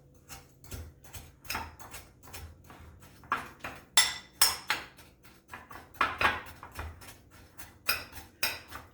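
Spoon clinking and scraping in a bowl while brown sugar and cinnamon are stirred together for a streusel topping, a run of close, irregular taps and scrapes with no talk.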